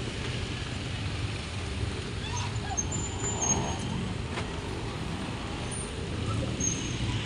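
Busy street traffic with many vehicles passes while pedestrians cross a road near a mall, making a continuous roadway rumble with swelling passes and faint higher sounds in the distance.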